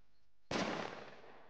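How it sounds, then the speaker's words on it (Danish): A thunderflash firecracker goes off in a single sharp, loud blast near a fire pond at a Danish special forces selection, preceded by near silence and followed by a fading rumbling tail. "Det der sker, det er, at vi kaster et kanonslag."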